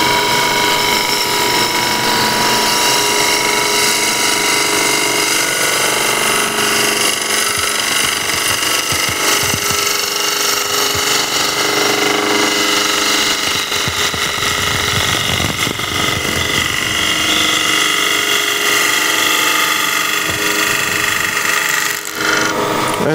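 Wood lathe spinning at 1500 RPM while a bowl gouge turns a wooden bowl, giving a steady loud mechanical whir with continuous rough scraping and chattering of the cut, close up and unbroken.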